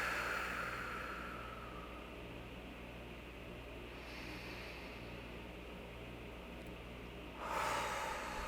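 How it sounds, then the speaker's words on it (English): Slow, deep breaths in and out during a guided evening meditation, soft airy inhales and exhales close to the microphone, unhurried and steady over a constant low background hiss, with no talking. "5 deep breaths"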